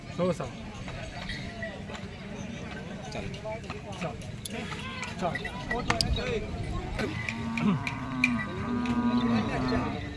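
Bulls low and bellow repeatedly over busy crowd chatter at the Jamthi bull market, with hooves clopping now and then amid the noisy gathering.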